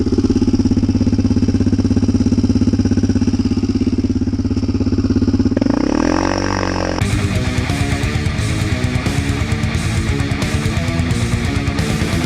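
An ATV engine runs steadily on a snowy glacier ride, a loud continuous drone that shifts pitch around six seconds before giving way to a busier mechanical texture for the rest of the ride, with no talking.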